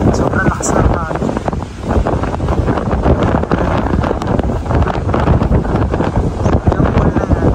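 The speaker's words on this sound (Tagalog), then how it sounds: "Sobrang lakas ng hangin." Strong wind sweeps across a beachfront resort pool at the Seashore Beach Club in Laiya, San Juan, Batangas, producing a continuous loud buffeting roar on the microphone with no letup.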